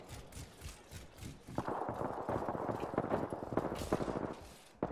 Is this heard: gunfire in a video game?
yes